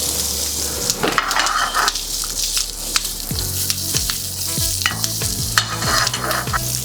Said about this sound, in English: we can just stir fry the lot in under a minute